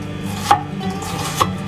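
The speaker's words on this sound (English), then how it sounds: "Slice and chop veggies with ease?" A Maxsa bushcraft chef knife chops vegetables on a board, giving two sharp, close knife strikes about a second apart over a low steady background.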